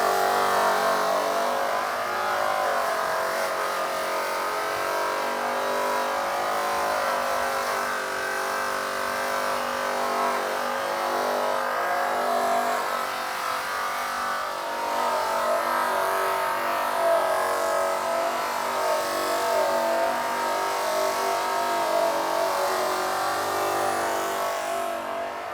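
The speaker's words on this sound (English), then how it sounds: "We've got a 10-inch fast cut wheel on the machine, and we're using the brown triply bar." A polishing machine running a 10-inch fast cut wheel loaded with brown tripoli bar buffs aluminum. It gives a steady, loud, continuous whine and rush that holds level the whole time with no pauses.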